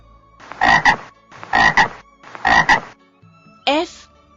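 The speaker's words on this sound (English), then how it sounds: "F for frog." A frog croaks three times in a steady, evenly spaced rhythm, loud and close, followed by a fourth, rising call.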